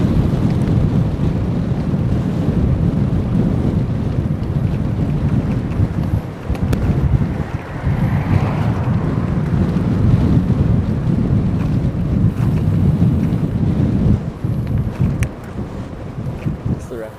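Strong headwind roaring across the microphone on a bike tour in South Korea, continuous low buffeting gusts throughout with a voice faintly underneath.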